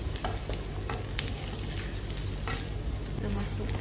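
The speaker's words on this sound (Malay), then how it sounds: "Kita goreng lah sampai dia wangi." Onion frying in oil in a pan, with a steady hiss and sizzle broken by occasional scraping stirs, close and fairly loud with no talk.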